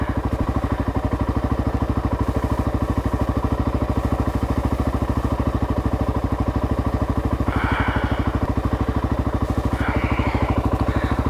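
A Honda XR600R dirt bike engine idles steadily on a solo trail ride, a constant close mid-pitched thrum with a low pulsing beat and brief faint rattles, no talk over it.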